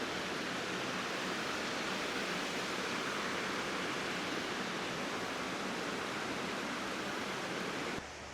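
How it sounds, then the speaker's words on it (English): Steady, dense roar of a waterfall heard from a viewing platform, a continuous broadband rush of falling water that holds even and fairly loud throughout, with no voices. "It's a pretty waterfall though."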